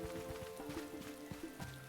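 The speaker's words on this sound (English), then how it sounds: "It's rainy, but it's not stormy" Rain in the video game Paleo Pines, a steady soft patter running continuously beneath layered in-game music tones, quiet and constant throughout.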